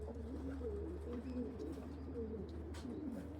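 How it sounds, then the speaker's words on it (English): Racing pigeons coo steadily at the loft, a continuous layered murmur of low throaty calls from several birds close by, with a few faint higher chirps over a constant background hum. "Another pigeon home."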